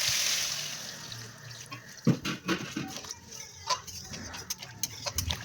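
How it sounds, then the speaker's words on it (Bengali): Water poured into a pan of soybean and potato curry, a steady hiss of pouring at the start giving way to irregular splashes, drips and bubbling sounds from the pot, close by with no talking. "এখন এখানে আমি জল দিয়ে দেবো"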